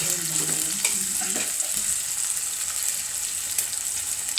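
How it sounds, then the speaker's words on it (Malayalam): Salted fish curry masala fries in a pan and is stirred, giving a loud, steady hiss with a few scraping strokes near the start. "നന്നായിട്ട് ഇളക്കി കൊടുക്കാം"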